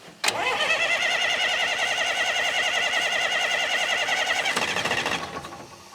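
A car engine left sitting for twenty years and blowing white smoke fires up after a sharp catch. It runs loud and steady with a rough, pulsing drone for about five seconds, then dies away.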